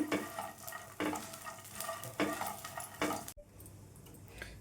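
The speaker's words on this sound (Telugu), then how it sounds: "వీటిల్ని ఫ్లేమ్ సిమ్లో ఉంచేసుకొని వేయించుకోవాలి మొత్తం కూడా." Maize kernels dry-roasting in a pan over a low flame, with bursts of crackling stirred about at roughly one-second intervals and faint scraping, ending in a brief quiet stretch.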